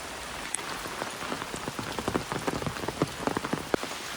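A heavy downpour drums steadily on the ground around field bunds, a dense close hiss of rain with sharper individual drop impacts scattered throughout.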